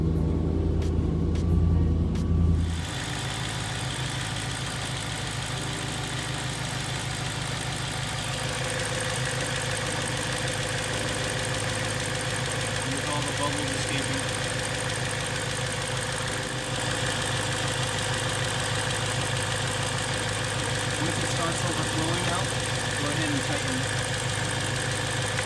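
A BMW E92 M3 engine idles steadily with the heater fan running while its cooling system is bled, a continuous mid-pitched hum after a brief louder start.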